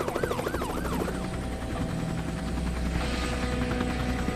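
Helicopter rotor thumping steadily overhead above a city, loud and continuous, joined at the start by a wailing siren-like tone that fades out after about a second.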